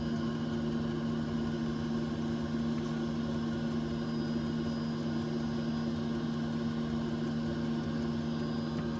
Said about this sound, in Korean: 히터가 돌아간 소리예요. 여기 히터가 돌아가고요. 모터도 돌죠.